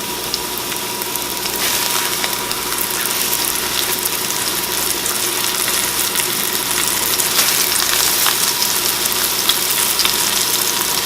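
Loud, steady sizzling of chicken frying in oil in a hot pan, a constant crackling hiss with no talking.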